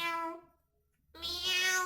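A human voice imitates a cat with two drawn-out, tonal meows separated by a short pause, close and clear with no other sound.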